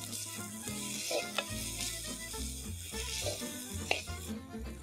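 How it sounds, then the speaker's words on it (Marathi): Chopped onions sauté in oil in a pan with a close, continuous sizzle, broken by soft scrapes and stirring sounds as the pieces are turned. "हा कांदा आपण थोडा परतून घेऊया."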